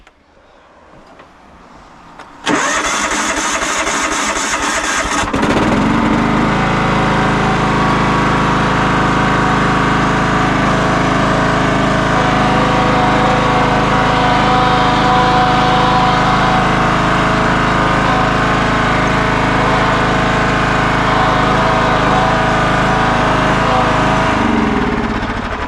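A lawn mower engine cranks briefly, catches and settles into a loud, steady running drone that holds for about twenty seconds before the pitch drops near the end, with no voices.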